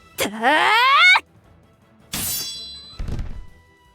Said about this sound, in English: the man is slammed to the ground with a tremendous thud